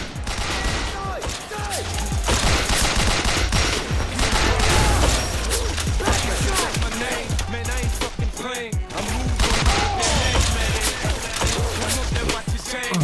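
Sustained gunfire rattles through a firefight in the video game 50 Cent: Blood on the Sand, dense bursts of automatic fire and shots overlapping continuously at high volume for the whole stretch.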